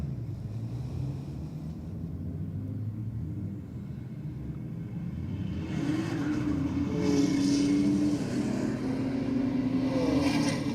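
A BMW M2 and a Falcon at a roll race, engines rumbling steadily and then swelling as both cars rev and accelerate hard, a continuous loud motor roar with rising pitch toward the end.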